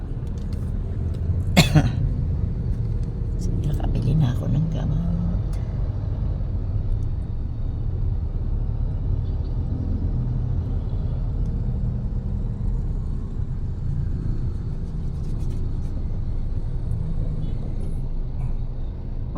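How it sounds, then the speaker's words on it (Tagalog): City road traffic heard from inside a vehicle, a steady low rumble of engines and road noise throughout, with a brief cough-like sound early on and a short spoken phrase. "Traffic."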